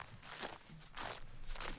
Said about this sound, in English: now I need some footsteps to add onto it, because he's walking in the snow